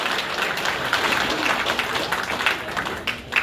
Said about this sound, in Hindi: तालियों से आए, तालियों से स्वागत करेंगे।